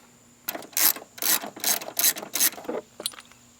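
A hand ratchet loosening a bolt beside the battery of a GMC Yukon or Chevy Tahoe, six quick bursts of rapid clicking in a close, even rhythm, followed by a softer final click, with no talk.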